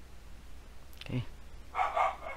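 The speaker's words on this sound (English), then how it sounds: "my dog is very noisy" A pet dog gives a single short bark near the middle, followed by a brief burst of a person talking, over quiet indoor background.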